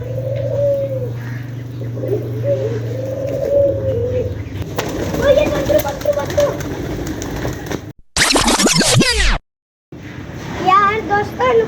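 Pigeons kept in a village yard coo repeatedly outdoors at midday, with soft calls, shuffling and brief wing flutters, plus a sharp burst of noise near the end before cooing resumes.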